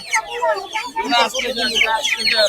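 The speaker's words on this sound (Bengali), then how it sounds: "দেশি মুরগি আপনারা আগেও দেখেছেন" Native chickens cluck and squawk repeatedly at a busy bird market, loud and close, with overlapping calls filling the air and people talking nearby.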